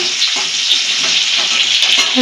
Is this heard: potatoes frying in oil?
yes